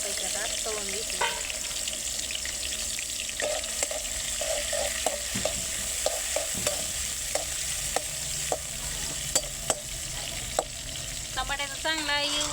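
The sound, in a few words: tomatoes frying in oil with cumin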